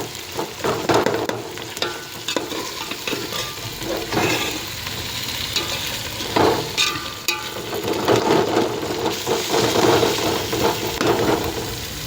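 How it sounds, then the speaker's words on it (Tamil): Tomatoes and cashews sautéing in a pan for veg biryani make a continuous sizzle, with repeated spoon scrapes and knocks at an irregular pace, close and moderately loud, and no voices. "தக்காளியை மட்டும் கொத்தி விடுங்க, முந்திரி கொத்தி விடுங்க. இன்னும் ஒரு 5 மினிட்ஸ் வதங்கணும்"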